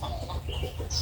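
Backyard chickens clucking close by, a short burst of soft overlapping clucks and chirps.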